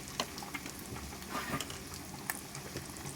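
Mutton keema sizzles in a pan as salt and chilli powder are stirred through it, giving a constant soft frying hiss broken by small scraping and clicking stirring sounds.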